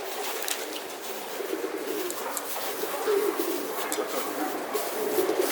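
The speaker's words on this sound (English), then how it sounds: "Oh, you also have those fancy pigeons, huh?" Fancy pigeons coo in soft, repeated murmurs against a dense, hissy outdoor background at a pigeon loft, several birds close by and continuous.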